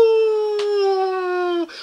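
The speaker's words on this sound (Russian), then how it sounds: "Под луной воют не волки, а оборотни" A single sustained wolf howl at the moon from a hidden-object puzzle game: one clear, steady, tonal cry held for almost two seconds, dipping slightly in pitch before it breaks off.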